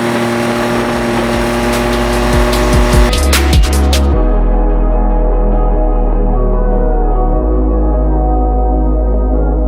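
A V6 Mustang on worn-out tires breaks loose and slides, engine revving hard with a burst of squeal around the middle before settling into a steady, loud drone with no talk.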